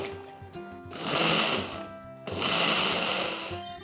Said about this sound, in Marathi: आणि आता हे मिक्सर मध्ये